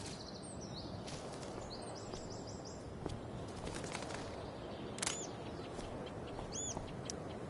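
Birds chirp in Life is Strange: Before the Storm, with short high tweets in several clusters over a soft outdoor background.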